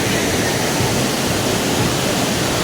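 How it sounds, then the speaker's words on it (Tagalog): Balombong Falls, a waterfall at Perez, Calauan, Laguna, roars as a loud, steady, unbroken rush of running water, close by and without any voices. "Ito po yung tinatawag natin Balumbong Falls."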